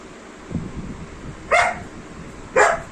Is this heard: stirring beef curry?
no